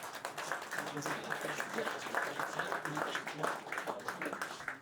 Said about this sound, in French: Madame Carole Zielinski, je vous demande d'applaudir très très fort.